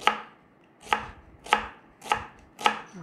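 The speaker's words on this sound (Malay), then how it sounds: "bawang besar dipotong nipis-nipis begini" A knife thinly slices onions on a board, five crisp, evenly spaced chops close by, with no voices.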